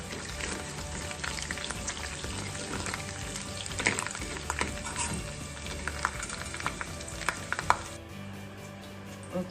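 A handful of curry leaves crackle and sizzle in hot tempering oil for a Maharashtrian dahi kadhi, a dense spattering hiss with scattered pops that cuts off abruptly near the end.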